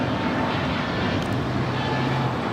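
A Frontier Airbus A320 jet taking off at Los Angeles International Airport, a steady broadband engine roar heard from a distance, constant and unbroken throughout with no talk.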